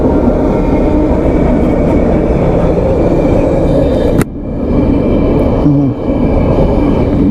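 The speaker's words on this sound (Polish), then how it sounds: "Na przejeździe jestem, pociąg jedzie." A train rumbles past a level crossing loudly and steadily, a continuous heavy roar close by, briefly cut off midway before resuming.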